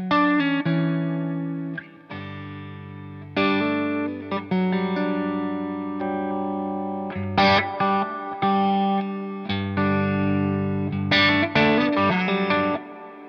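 Electric guitar played through a Strymon Flint tremolo and reverb pedal: sustained ringing chords and notes with a wash of reverb trailing each change, moving through several chord shifts with no talking.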